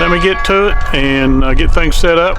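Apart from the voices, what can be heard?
No everyday noises stand out.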